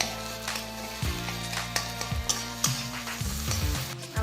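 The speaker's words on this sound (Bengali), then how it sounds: "আমাদের ডিম ভাজা হয়ে গিয়েছে।" An egg frying in a pan with a little salt, being broken into small scrambled pieces, gives a steady soft sizzle broken by repeated scraping and stirring strokes of a spatula, close and fairly quiet.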